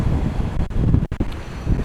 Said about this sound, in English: Bloody windy, very windy today.